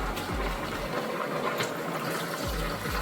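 Stockfish cooking water poured into a pot of Nigerian oha soup, a steady liquid splash and gurgle that runs continuously and close, with a few low thumps, no talk.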